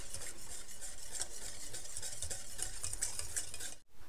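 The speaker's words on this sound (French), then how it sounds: "on va remuer pendant 1 minute" A spoon stirs pastry cream in a pan continuously, a soft scraping and swishing with faint sizzle underneath, quiet and close, without talking.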